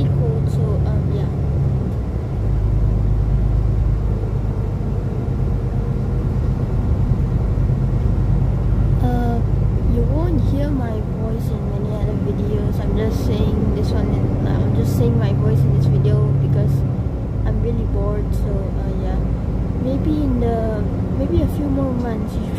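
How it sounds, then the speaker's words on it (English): A steady low engine rumble heard from inside a moving city bus, route 88, continuous throughout, with a voice talking over it. "I'm leaning against the window of a bus"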